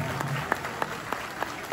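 Applause from wedding guests at a ceremony hall, a steady patter of clapping with a few sharper claps standing out, fairly close and without speech.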